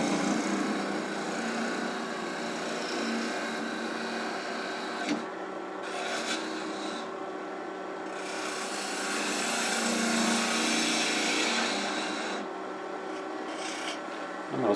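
An apple-shaped piece of wood spins on a lathe while a 1/4 inch detail gouge cuts it, giving a steady, continuous rasping scrape that swells and dips slightly with brief pauses and no talk.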